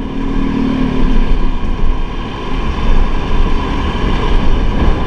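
A motorcycle riding over a bumpy, potholed road, with a steady engine rumble mixed with wind buffeting the microphone and uneven jolting surges, heard close and loud throughout.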